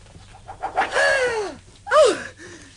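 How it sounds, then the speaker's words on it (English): Owl in a radio drama giving two wavering, hooting screech calls a moment apart, clear and fairly close, heard on its own. "Oh! It's an owl."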